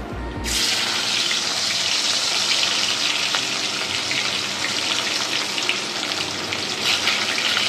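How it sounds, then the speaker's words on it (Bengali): A loud, sudden sizzle erupts as salted, turmeric-coated rohu fish pieces go into hot oil, continuing as a steady, hissing roar of frying, close and constant. "আমি নুন হলুদ দিয়ে মাখিয়ে রাখা মাছগুলো ছেড়ে দিচ্ছি তেলে"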